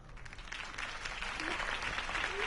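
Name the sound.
applause after campaign speech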